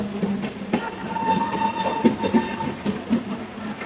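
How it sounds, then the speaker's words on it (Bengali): A train pulls into platform 3 at Panagarh station on a quiet evening, wheels giving a steady rumble with rhythmic clacks over rail joints and a sustained metallic tone, fairly loud and close throughout. "তো দেখো ট্রেন ঢুকে পড়েছে পানাগড় স্টেশনের 3 নম্বর প্ল্যাটফর্মে।"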